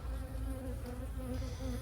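Honey bees buzz on a hive frame, a close, continuous droning hum with a steady pitched whine layered over it.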